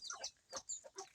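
A brooding hen sitting on her eggs gives a few soft, short clucks and murmurs in a quick irregular cluster, close but faint, with no talking.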